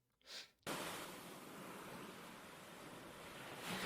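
Sea waves wash in a steady, broad surf roar that starts abruptly after a brief quieter moment and holds on evenly, with some wind on the microphone.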